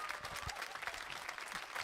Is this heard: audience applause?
yes